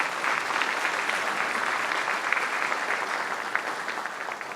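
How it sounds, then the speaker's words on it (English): Audience applause at a city's State of the City address, a dense, steady burst of many hands clapping throughout, loud and unbroken. "You deserve a round of applause."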